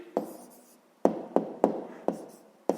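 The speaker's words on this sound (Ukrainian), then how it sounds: "Пишемо відповідь" A pen or chalk scratches out a handwritten answer to a fifth-grade math exercise, with several quick strokes in close, uneven bursts and no talk over them.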